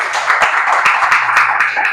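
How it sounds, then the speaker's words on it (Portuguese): Church congregation at a prayer meeting clapping together, a dense, steady patter of many hands, fairly loud and close, with no one speaking over it. "Vamos aplaudir a palavra de Deus?"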